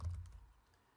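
A few quick keystrokes on an unfamiliar computer keyboard while entering spreadsheet labels, clustered at the start and then trailing off. They are soft, close and heard alone.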